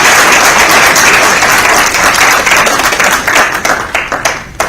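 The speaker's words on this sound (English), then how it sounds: "A continued round of applause for Ms. Sandra Kaba as she makes her way to her seat." Sustained applause for Ms. Sandra Kaba at a youth entrepreneurship event, a loud dense crowd of clapping that thins toward the end into more distinct individual claps.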